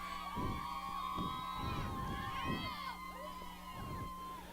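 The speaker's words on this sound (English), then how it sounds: "You got the crowd here. Here's the crowd, the student section." A high school football crowd at a homecoming game fills the air with a steady roar, the student section cheering and shouting from a distance, with voices talking nearby over the din.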